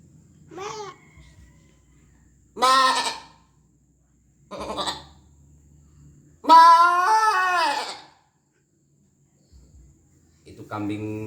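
A person imitates a goat, producing a series of separate quavering bleats spaced by pauses, the longest and loudest near the middle, each heard alone and close.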